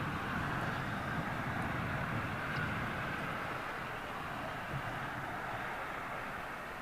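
An aircraft takes off from runway 27L at London Heathrow, a steady distant jet roar with an even, unbroken rumble throughout and no voices.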